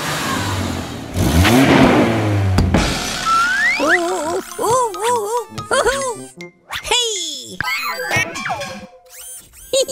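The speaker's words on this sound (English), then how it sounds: "Let's have a nice loud rev." A cartoon vehicle engine gives a short, loud revving burst, followed by animated character voices talking with bouncy sound effects.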